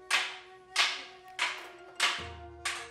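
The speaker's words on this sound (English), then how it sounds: "get used to the impact and big sound of the bokuto hitting each other" Wooden bokuto practice swords clack against each other in an iai katana parry drill at a dojo in Kyoto, Japan, giving five sharp, evenly spaced strikes, each with a brief ringing decay.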